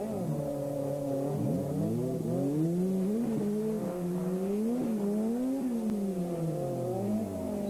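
A BMW M3 Group A rally car at the 1990 Boucles de Spa is driven on slippery terrain. Its engine revs rise and fall continuously, loud and fairly close, with no talk.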